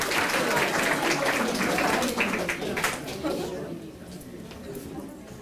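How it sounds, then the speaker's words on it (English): A school class at Samuel S. Gaines Academy applauding during a Black History Month presentation, a burst of clapping from a room of students that fades after a few seconds, with voices mixed in. "let's give a warm hand applause for those who answered correctly"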